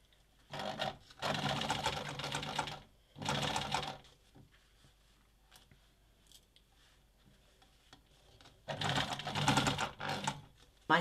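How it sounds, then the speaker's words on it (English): An aging 40-year-old sewing machine labors as it stitches, its motor whirring in several uneven bursts of rattling chatter, one long run, a short stop-start, quiet handling in between, then another strained run near the end. "You can hear the engine is not all that happy."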